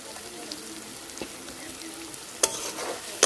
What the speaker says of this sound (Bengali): টমেটোটা দিয়ে ভালোভাবে কষাই নিই